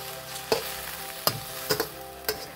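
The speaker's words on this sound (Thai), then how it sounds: "พอกระเทียมเหลืองหอมได้ที่แล้วนะคะเราก็นำเห็ดลงไปผัดเลยค่ะ" Mushrooms are stir-fried with golden garlic in a hot pan, a steady sizzle broken by four distinct clanks and scrapes of the spatula tossing them.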